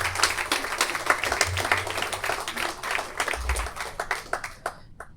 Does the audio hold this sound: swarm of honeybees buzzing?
no